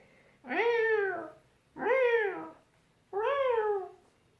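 Three long, drawn-out meows, evenly spaced and fairly close, with a rising-then-falling whine, voiced by children imitating an angry cat during a preschool yoga cat pose.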